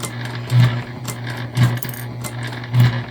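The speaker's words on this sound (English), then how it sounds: "it sounds like my machine is having a little bit of a hard time" A sewing machine sewing a large bag runs with a steady low hum, punctuated by three heavy, labored thumps as the needle pushes through thick layers, roughly once a second.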